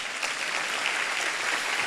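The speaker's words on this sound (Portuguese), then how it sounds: "Quem pode aplaudir ao Senhor?" Church congregation at a Tuesday fasting blessing service applauding the Lord, a brief dense wash of clapping from many hands, steady and moderately loud throughout.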